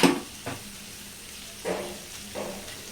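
Cauliflower fry sizzling in a pan while being stirred, a steady soft sizzle broken by three or four scraping stirs, close and moderately loud, with no talking.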